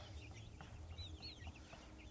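Backyard chickens clucking faintly at a distance over a low background rumble, with a few soft, rising calls.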